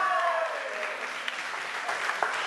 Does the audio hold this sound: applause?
yes